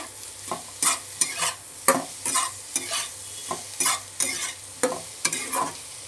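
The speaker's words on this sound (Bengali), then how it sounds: "এইবার আবারও একটুখানি নেড়ে নেব খানিকক্ষণ।" A spoon stirs stew in a pan after sugar has gone in, a dozen or so separate scraping strokes over a low sizzle, near and clear with no voices.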